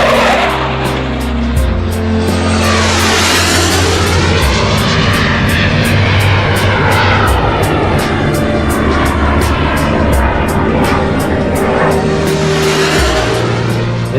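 A Sukhoi jet flies at a flight test base. Its engine roars loud and close throughout, with pitch sweeping down and back up as it passes overhead, and no talk.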